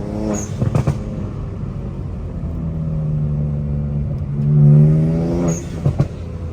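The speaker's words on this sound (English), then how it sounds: "Ah, the turbos sound nasty." A BMW 335i with upgraded turbos and a six-speed accelerating hard, a rising, rumbling drone that swells and settles, with a few clicks and thumps of gear changes.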